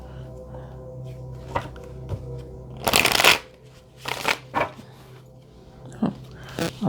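A deck of tarot-style cards being shuffled close by, with a loud riffling burst followed by several shorter shuffles and card flicks, while a voice speaks quietly at times.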